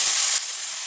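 Spice paste hitting hot oil in a pan while cooking vegetarian jackfruit curry, a bright steady sizzle that drops slightly in intensity after a moment and keeps hissing alone.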